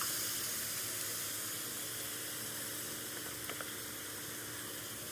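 Spice paste and rinse water hitting a hot pan while cooking a spicy Bengali baim fish bhuna, giving a steady broad hiss and sizzle, faint and continuous, with a couple of small pops near the end.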